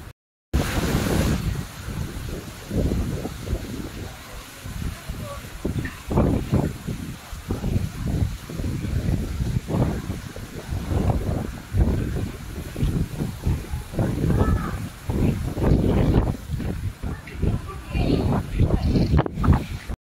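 Strong typhoon wind buffets the microphone in sustained, loud gusts and roaring surges, with a voice speaking briefly over it.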